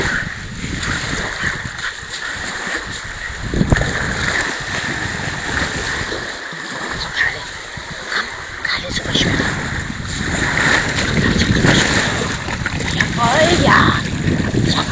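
Rough sea with big waves crashing and splashing near the shore while a Spitz dog bathes, a steady windy wash of surf throughout, with a person speaking over it.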